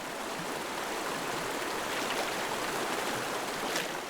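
A steady, dense rush of water from an icy winter stream in a German forest habitat, continuous broadband flow at an even level throughout with no voices.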